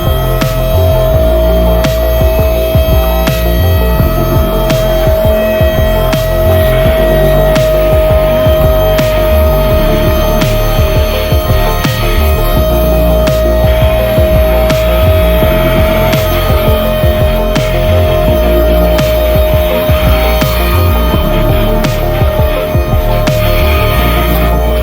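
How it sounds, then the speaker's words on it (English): A tiny handheld car vacuum cleaning paper bits off a car's driver's seat: a loud, steady motor hum and whine running continuously and close, with slight throbbing changes as it works and no talk. "we're going to go ahead and try seeing how well this vacuum picks up these pieces of paper on this seat"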